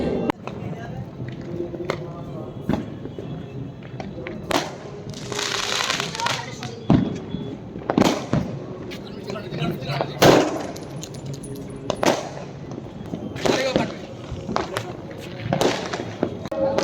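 Diwali firecrackers and fireworks burst from the streets below a rooftop, a series of sharp bangs and crackles spread irregularly over a steady hubbub, with voices talking nearby throughout.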